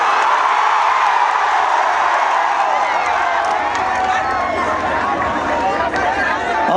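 Large crowd at an outdoor stage show in Hyderabad cheering and applauding, a loud sustained roar of voices and clapping that fills the whole stretch without pause.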